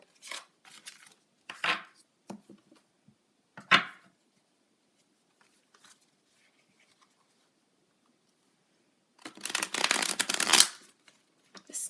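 A stiff, new tarot deck is shuffled close up: a few short card flicks and taps early, then after a quiet stretch a dense, crisp riffle of cards lasting about a second and a half.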